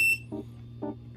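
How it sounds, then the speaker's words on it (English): An NVK remote dog training collar gives two short electronic beep tones from its warning button, close and moderately loud, spaced about half a second apart over a low steady hum. "the beep button would sound like this"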